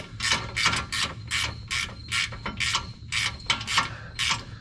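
Ratchet wrench snugging bolts while installing a Ready Lift 2.5-inch level and lift kit on a Ford Super Duty truck: about a dozen quick, close ratcheting bursts in a steady back-and-forth rhythm, with no talk.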